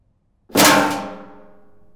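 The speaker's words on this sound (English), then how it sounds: "I think it might have been one of those old metal biscuit tins," An old, rusty square metal biscuit tin is kicked, giving one loud, bright metallic clang that strikes suddenly and then rings and fades away over about a second and a half, heard on its own.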